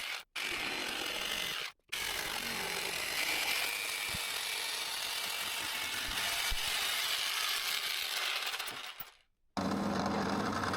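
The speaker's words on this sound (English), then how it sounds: "Then I take out the jigsaw and cut the shelf according to the template." Jigsaw cutting a wooden shelf held together with double-sided tape, a continuous close, loud buzzing rasp of the blade through wood, pausing briefly twice near the start and once near the end.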